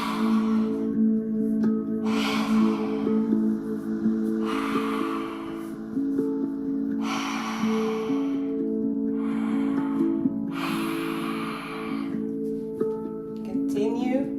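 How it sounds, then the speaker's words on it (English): Forceful open-mouthed lion-breath exhalations in a yoga class come in a slow series of about six loud, breathy whooshes, each separated by a pause, over steady background music. "now we're going to open our mouth and do a lion breath. So you're breathing powerfully through your mouth."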